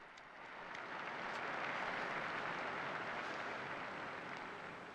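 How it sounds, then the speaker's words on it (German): A large crowd at the Sunday Angelus in St. Peter's Square applauds the new blesseds, a broad, steady wash of many hands clapping that swells and holds at a distance. "Ein Applaus für die neuen Seligen."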